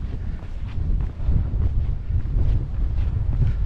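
Cold wind buffets the microphone on the summit of the Cheviot, a steady low rumbling roar that swells and gusts throughout, loud and close with no voices.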